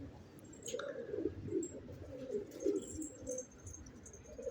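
Pigeons coo repeatedly inside a pigeon coop, soft throaty rolling calls in a loose rhythm, close by, with a few faint chirps above them.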